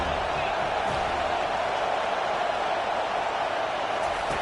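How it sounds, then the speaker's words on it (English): Football stadium crowd roaring steadily during a third-down defensive stand, a dense, continuous wall of crowd noise that stays loud and even throughout, with no distinct voices standing out. "Decibels rising as the crowd gets behind this defense on third down."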